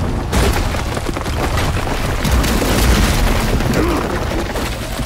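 Catapult fireballs explode in the For Honor video game, a loud, continuous rumbling blast with dense crackling debris that fills the whole stretch without clear breaks.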